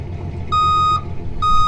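A truck's backup alarm sounds two sharp electronic beeps in steady rhythm over a low idling engine rumble, close and clear.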